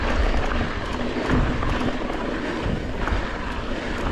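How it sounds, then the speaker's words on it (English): Bosch CX Race mid-drive e-bike motor running at full power, a loud, steady whirring drone mixed with rushing wind noise and no let-up. "You can hear the actual sound of the motor at full power."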